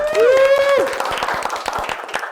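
Audience clapping at the opening of an Indonesian youth talk podcast, a short burst of scattered hand claps that follows a brief sung or whistled tone, fairly close and loud.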